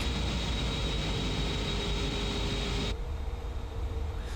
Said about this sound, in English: it's a very distinctive noise on this airplane, and they really capture it